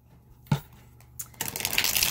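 Tarot cards shuffled and drawn by hand, a sharp slap of a card, then a steady papery riffle and rustle close by, building toward the end.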